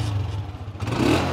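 A used motorcycle engine running close by, a steady low, throbbing idle that picks up slightly in a short rev near the end.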